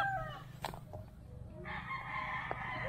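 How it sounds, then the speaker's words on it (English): Chickens in a rural village in Northern Cebu, Philippines, with a rooster crowing and hens clucking nearby over steady outdoor background noise. "Chickens everywhere."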